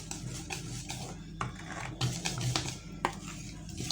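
A wire whisk stirs chocolate sponge cake batter in a bowl, giving soft repeated scraping and clinking strokes against the bowl, quiet and close with an irregular rhythm.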